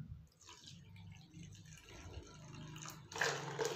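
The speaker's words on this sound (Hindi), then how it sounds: "मैं यहाँ थोड़ा सा गुनगुना पानी डाल रही हूँ।" Lukewarm water poured into a pot of potatoes, a soft trickling splash that builds louder near the end, close and alone.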